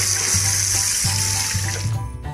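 Squid rinsed under a running kitchen tap, with a steady hiss of flowing water and small splashes as it is handled beneath the stream.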